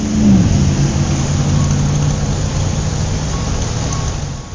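A car drives off and accelerates, its mid-range engine note rising and holding steady as it pulls away, loud and continuous throughout with no voices.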